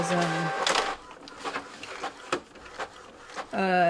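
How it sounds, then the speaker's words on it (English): A new ink-tank eco printer runs through a print job with whirring motor passes, mechanical clunks and clicks, and rising tonal whines at start and end, loud and close over steady room noise. "All right, I got a new printer."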